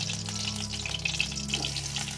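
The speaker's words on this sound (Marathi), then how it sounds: "आता फोडणीसाठी आपण कांदो आणि मिरची टाकू काही." Onion and chilli fry in oil in a kadhai over a wood-fired stove for tempering, a gentle, even sizzle with a few light pops, close and soft, with a steady low hum underneath.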